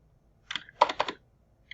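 Close, crisp computer keyboard keystrokes as someone types code: a short burst, then a denser cluster of quick clicks, and one final tap, with near silence between them.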